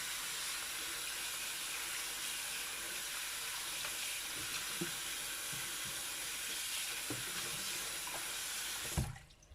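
Tap water running steadily into a sink to wash Thai vegetables before pickling, a continuous hiss of flowing water with small knocks of handling and a clunk as it stops near the end.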